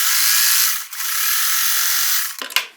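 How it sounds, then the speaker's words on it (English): Sewing machine running steadily as it stitches down strips of fabric in brown to black shades for crumb quilt blocks, a continuous close mechanical whir that cuts off briefly, then ends with a few clicks. "let's just sew down"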